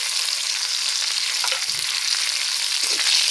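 Panch phoron five-spice seeds crackle and sizzle steadily in hot oil with green chili, cardamom and cinnamon, a dense continuous frying hiss with a few soft pops, close and fairly loud.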